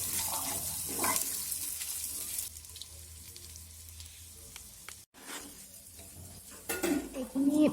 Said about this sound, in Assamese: এইখিনি এতিয়া ভালকৈ মিক্স কৰি দিম